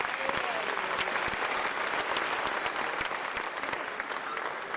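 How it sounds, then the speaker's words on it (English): Warm applause fills a hall at an honorific lecture celebrating a lawyer, a moderately distant, even spread of clapping from a sizable audience that continues without letup, with a few louder individual claps nearby. "Shall we do a big round of applause and welcome them?"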